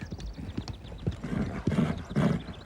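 Horses' hooves clip-clopping at a walk, a close, irregular series of hollow knocks with a brief whinny mixed in.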